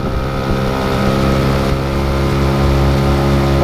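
A Toyama outboard motor mounted on a kayak with a stabilizer runs steadily at 70% power, a loud, continuous droning hum with wind buffeting, close to the microphone and without talk.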